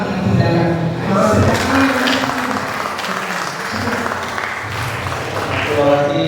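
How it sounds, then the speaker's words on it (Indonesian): An audience at the IMF 2025 event applauds a speaker with sustained clapping that stays steady throughout, while a voice talks over the applause. "Kita kasih tepuk tangan dulu loh untuk narasumber ini"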